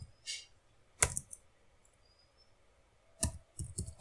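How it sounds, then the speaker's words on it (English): Keys on a computer keyboard tapped in short clicky bursts while a prompt is typed, close and quiet, with pauses between clusters of keystrokes. "here I will simply type in the prompt"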